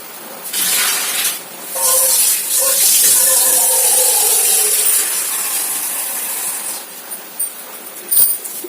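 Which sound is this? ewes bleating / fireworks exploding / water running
water running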